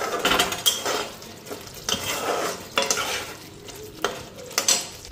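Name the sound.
frying eggplant with onion and spices being stirred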